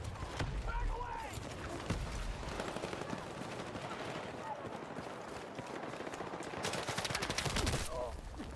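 Rapid video game gunfire crackles in repeated bursts and sustained automatic volleys during a firefight, with players talking over the shooting throughout.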